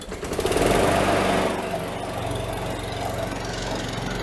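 Small lawn mower engine, found dirty and unused by a roadside, catching on one pull and then running steadily, a loud close-up buzz that rises briefly as it fires and settles into an even idle-like drone.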